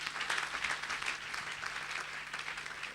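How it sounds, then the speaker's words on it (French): A church congregation applauds, a dense, steady crackle of many hands clapping together throughout, with a faint hum underneath and no distinct voices. "Acclamons plus fort le roi des rois"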